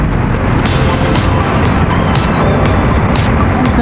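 A car drives along at steady speed, its continuous road and engine rumble close and loud throughout, with a few brief knocks and rattles on top.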